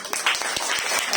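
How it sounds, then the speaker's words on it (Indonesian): Church congregation clapping in a brief burst of scattered, overlapping handclaps, loud and close. "Mari tepuk tangan Bapak Ibu."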